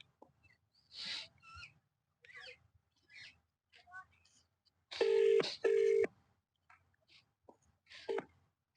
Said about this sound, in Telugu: ఇప్పుడైతే బాలన్నకైతే ఫోన్ చేస్తున్నా